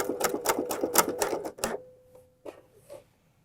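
A sewing machine runs a zigzag stitch over fold-over elastic binding in a short quick burst of needle strokes that stops abruptly, followed by a faint hum and a couple of soft clicks.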